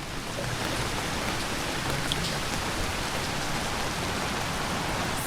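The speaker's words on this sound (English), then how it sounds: "So that is rain." Steady rain falling outdoors in Montana, a dense, even hiss of drops spread across the whole clip with no pauses and no voices.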